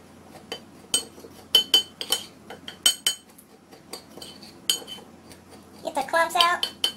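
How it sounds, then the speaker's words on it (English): A utensil mixing seasoning, including green mango powder, in a bowl, irregular clinks and taps against the bowl, close and sharp, with a busier rattling flurry near the end. "Gonna mix this up pretty good here."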